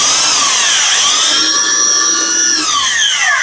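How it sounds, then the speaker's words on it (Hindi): A 400 watt electric drill machine runs on WAPDA mains power, giving a steady high-pitched motor whine with shifting overtones that holds loud and close for several seconds, with no talk. "तो ड्रिल मशीन सबसे पहले हम चलाते हैं वापडा के"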